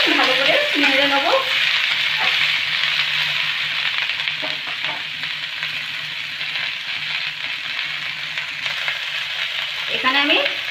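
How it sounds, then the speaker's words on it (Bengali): Chopped snake gourd sizzles steadily in hot oil over cumin and chilli, with scraping stirs near the start and again at the end, close and continuous. "এবার কেটে রাখা চিচিঙ্গাগুলো দেব। তেলের সাথে ভালো করে নেড়ে নেব।"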